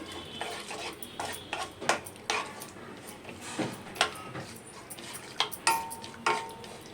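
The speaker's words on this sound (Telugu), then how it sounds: "ఇవి బాదం పప్పులు, డ్రై ఫ్రూట్స్ వేయించుకోవాలండి" Almonds and cashews being dry-roasted for rava kesari, stirred in a pan with a spoon, giving repeated near scrapes and clinks at an uneven rhythm, with a voice talking briefly.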